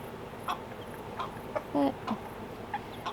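A hen and a rooster, young chickens in a small coop, let out a few short scattered clucks and chirps, faint over a steady hum, with a brief word of talk.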